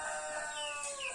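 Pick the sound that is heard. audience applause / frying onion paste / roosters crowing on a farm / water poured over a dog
roosters crowing on a farm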